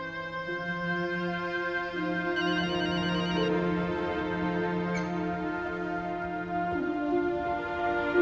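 A telephone rings with a steady electronic warble over a background of sustained tones, moderately quiet, with no talking.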